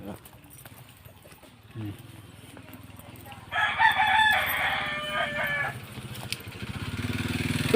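A rooster lets out one loud, drawn-out crow among chickens in a rural yard, while people talk nearby before and after.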